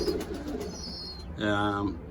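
Pigeons in a loft giving soft cooing calls, a low throaty coo rising near the end over faint background chatter and rustle, with a person speaking nearby.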